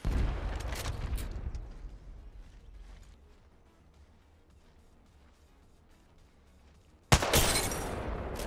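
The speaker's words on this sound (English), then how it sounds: "Box 3, missile off the rails." A missile launched off the rails in a video game, a loud burst of roaring launch noise at the start that fades over a few seconds, then a second sharp, loud blast near the end.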